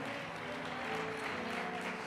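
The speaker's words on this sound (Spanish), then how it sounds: "el aplauso es para el Señor, déselo fuerte" A church congregation applauds steadily and fairly loud throughout, a dense, even wash of many hands clapping without pause.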